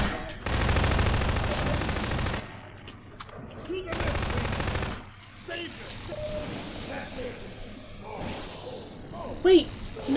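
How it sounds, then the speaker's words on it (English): Video game gunfire in Half-Life 2, with two long bursts of dense automatic fire followed by scattered shots. Voices talk over the later part of the fire. "Where the fuck am I being shot from?"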